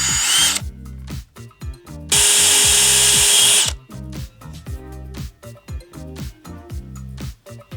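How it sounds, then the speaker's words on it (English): Two long bursts of a high-pitched whining power drill drilling holes in a 2007 Subaru Impreza WRX STi, with rhythmic mechanical thumping and clatter underneath throughout. "So what I'm going to do is I'm going to drill some holes"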